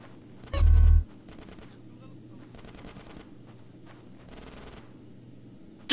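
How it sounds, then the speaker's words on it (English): Gunfire in a GTA San Andreas shootout: a loud, close burst of shots followed by repeated automatic rattles from farther off, with rapid bursts separated by short pauses. "Get some suppressing fire in there!"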